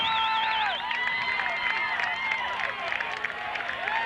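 Weymouth supporters in the stands at a high school football game against Framingham clap and cheer in a broad crowd murmur, with a sharp warbling whistle up front and a commentator's voice running over it.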